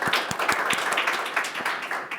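An audience at a democracy-at-work event applauds to welcome a speaker, a steady, close, dense patter of many hands clapping throughout.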